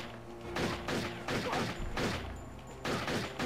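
Rapid enemy gunfire in the shooter game Turok: Shadow of Oblivion, loud bursts of repeated shots coming in three or four clustered volleys with brief lulls between them.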